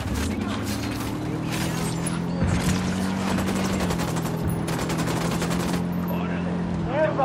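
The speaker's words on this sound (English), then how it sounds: "I'm opening fire on these shitheads." Sustained automatic gunfire in Ghost Recon Wildlands, loud and rapid, with a steady helicopter-like drone underneath and a voice talking over it.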